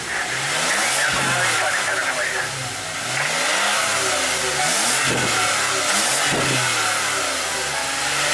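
A 2015 Toyota Sienna minivan with a 3.5 L V6 engine revs repeatedly, its pitch climbing and falling in several loud surges, close and continuous.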